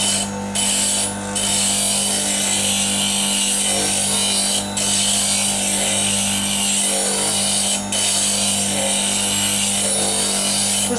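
Bench grinder with a 50 mm wheel sharpening a woodturning gouge to a 35-degree bevel: a steady loud motor hum and continuous abrasive hiss of steel on the wheel, with brief contact bursts, no talk.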